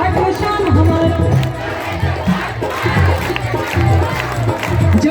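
Devotees at a Shyam kirtan at Ram Janki Mandir shout together with raised hands, a loud, dense crowd roar surging in waves over several seconds.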